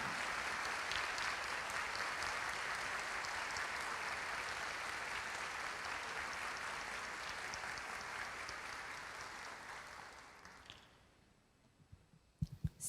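Church congregation applauding steadily and densely for about ten seconds, then the clapping fades out, leaving a few scattered claps and knocks at the end.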